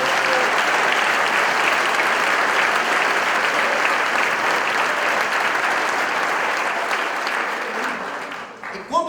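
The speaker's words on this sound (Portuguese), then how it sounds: "Você pode aplaudir a Cristo? Faça isso." A church congregation bursts into loud, sustained applause, a thick even wash of clapping that holds steadily for about eight seconds, then thins and fades out at the end.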